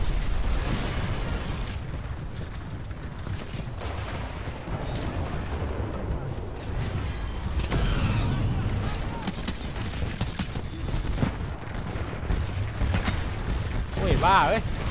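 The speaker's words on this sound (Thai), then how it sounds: "หุ่นจะระเบิดแล้ว" A mech titan blowing up in the video game Titanfall 2, with heavy booming blasts and rapid gunfire-like crackle forming a loud, continuous barrage for the whole stretch, while players talk over it.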